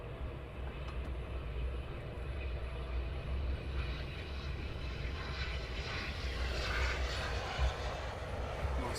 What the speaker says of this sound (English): Nice approach and nice landing.